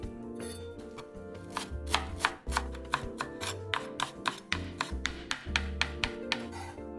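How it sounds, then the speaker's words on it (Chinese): Knife chopping washed, drained chives into half-centimetre pieces on a board, a fast steady run of crisp close taps with a few brief pauses. "韭菜260克，洗净沥干水分，切成小段"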